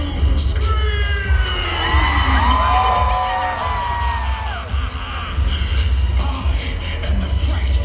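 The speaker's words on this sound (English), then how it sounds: "Let me hear you scream!" A large crowd at Halloween Horror Nights, Universal Orlando, screams and whoops together, a sustained roar of many voices with shrill yells rising over a low rumbling background.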